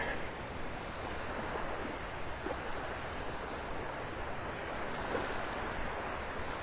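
Steady ocean surf on the beach at Delnor-Wiggins in North Naples, a continuous broad wash of waves with some wind noise, fairly close and even throughout.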